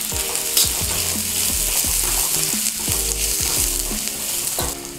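Ginger, green chilies and onion fry in hot oil in a pan, with a loud close sizzle and repeated stirring scrapes throughout, and no one speaking.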